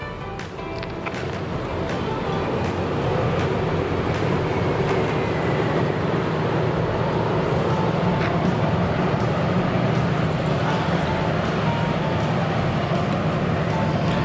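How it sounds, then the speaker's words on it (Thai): Special passenger train hauled by Alsthom locomotive number 4147 rumbles past with a steady, continuous roar of wheels and engine, loud and sustained throughout. "ฮาสตอม4147ทำขบวนนะครับ"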